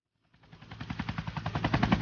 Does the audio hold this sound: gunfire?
yes